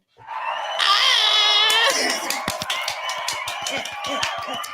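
Cheering and a burst of clapping from a small group of siblings, with excited voices and shouts rising together before settling into scattered claps and chatter.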